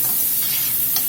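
Onions dropped into a hot pan of pork chop drippings and roux sizzle loudly and steadily, a close, bright frying hiss with faint stirring and no talk.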